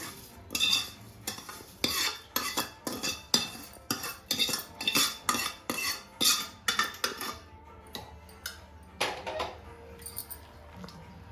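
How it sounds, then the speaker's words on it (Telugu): Sugar and fried vermicelli being stirred into semiya payasam, with a rapid, regular series of loud spoon-against-pot scrapes and clinks, close up, tapering off near the end. "చక్కెర పోసుకోవాలి. తర్వాత వేయించుకున్న షేమియా కూడా ఇందులో వేసుకోవాలి."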